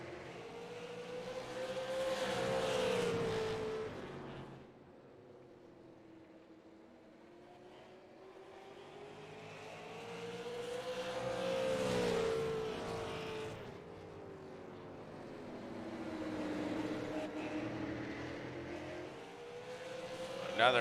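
Race cars lap North Wilkesboro Speedway, their engines swelling and fading in three distinct pass-bys at a moderate distance, with a quieter rolling hum between passes.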